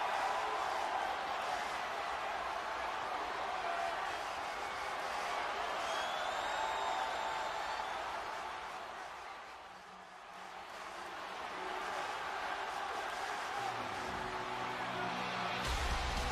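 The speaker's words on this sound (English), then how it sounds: "The crowd absolutely loving Daniel Bryan tonight." A wrestling arena crowd roars and cheers for Daniel Bryan's entrance during a televised match night, a steady dense wash of noise that dips briefly midway, then swells again.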